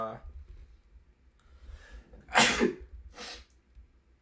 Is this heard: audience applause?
no